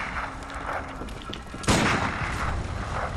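A single gunshot fired in the video game Bloodborne: one abrupt, loud blast breaking over a steady background of game ambience, its noise hanging on briefly afterward.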